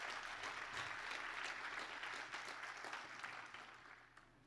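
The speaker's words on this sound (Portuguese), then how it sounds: "Então dê uma salva de palmas a esse Espírito Santo." Church congregation applauding at a worship service, a dense sustained wash of many hands clapping that holds steady and slowly thins toward the end.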